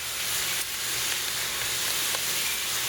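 Sausage browning in a hot pan with cracked black pepper and salt, a steady, dense close-up sizzle and hiss that continues evenly without pause, with no voices.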